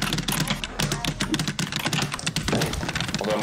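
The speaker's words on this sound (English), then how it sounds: "my mic does a decent job of picking up my keyboard" Rapid typing on a mechanical computer keyboard, close and crisp, with bursts of clacking keystrokes in uneven rhythm and a brief pause partway through.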